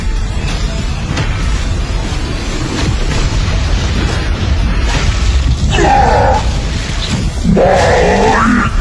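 A huge explosion in a Thai-dubbed anime produces a loud, sustained roaring rumble that fills the whole stretch and swells with brighter bursts toward the end.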